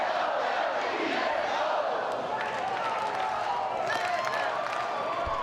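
A large night-time crowd at a 2025 NCAA baseball regional in Tallahassee, Florida State against Mississippi State, keeps up a steady roaring cheer with scattered shouts throughout.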